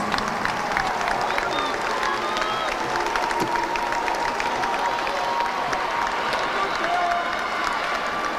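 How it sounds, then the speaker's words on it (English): Sustained crowd clapping and cheering in a gym for the runner-up Frederick Douglass Broncos boys basketball team at a regional championship, a continuous roar of applause that stays steady and full throughout. "Now, fans, how about a round of applause for your runner-up, the Frederick Douglass Broncos."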